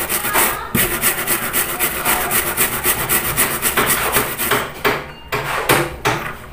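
A burnt coin being scrubbed hard to restore its color, a loud, close, rhythmic back-and-forth rasping that runs continuously with brief pauses, much like sawing or filing.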